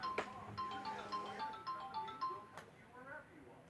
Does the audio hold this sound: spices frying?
no